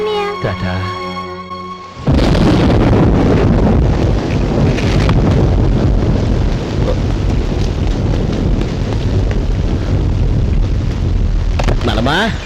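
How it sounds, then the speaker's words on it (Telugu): A heavy rainstorm beating down, a dense roaring downpour that starts abruptly and keeps a loud, constant wash close by, with gusty turbulence and a voice briefly heard over it. "ఇప్పుడు అర్ధంతరగా ఈ వర్షం పట్టుకుంది"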